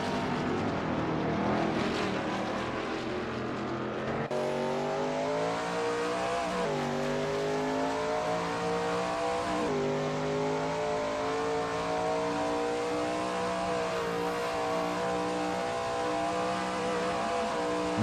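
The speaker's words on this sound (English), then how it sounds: "There's not much better than sitting near here and watching the cars speed by" Shelby Mustang GT350R race cars on the Zandvoort circuit in a racing video game roar loudly, the engine note climbing and dropping through several sharp gear shifts over a continuous drone.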